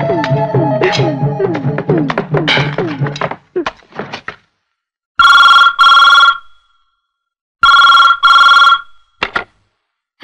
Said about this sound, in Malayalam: കോൺട്രാക്ടർക്ക് ഫോൺ.